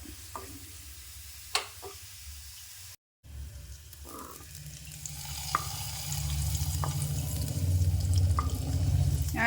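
Curry leaves fried in coconut oil sizzle and crackle steadily as they are tipped and stirred into a prawn curry with raw jackfruit, with a few spoon clinks; the sizzle grows louder toward the end, with no talking.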